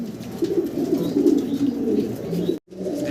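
Pigeons at a pigeon farm coo in a low, steady, rumbling chorus, close by and continuous, broken by a brief silent cut near the end.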